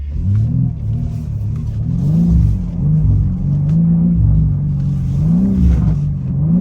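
A BMW G80 M3 on Michelin X-Ice winter tires slides with stability control off. Its engine revs loudly and close, rising and falling in pitch over a continuous low rumble, with no talk.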